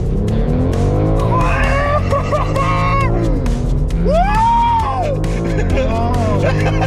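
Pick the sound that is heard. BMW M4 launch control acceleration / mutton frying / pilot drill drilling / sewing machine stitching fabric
BMW M4 launch control acceleration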